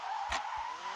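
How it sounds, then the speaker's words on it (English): Honda S2000 on a circuit with its rear end kicking out, tires skidding in a short, sharp squeal over steady engine drone, close and loud. "that's the first time I've had any sort of like major kick out of the rear end in this car"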